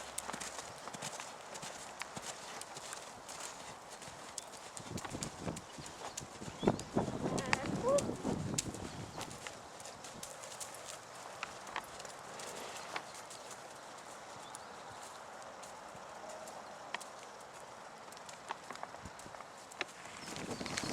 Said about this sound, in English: I will increase to canter.